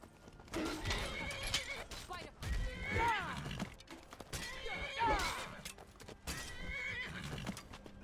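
A horse in the Skyrim video game neighs loudly in repeated whinnies over steady clip-clopping hooves, the calls recurring every couple of seconds.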